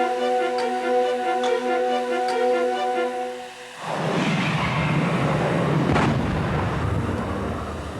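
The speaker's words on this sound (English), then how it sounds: "When the cannon fires to start the cortege" A ceremonial cannon fires to start a cortege: a sudden loud, broad blast cuts in mid-clip, replacing tonal music, then rumbles and decays with a second burst of crackle shortly after.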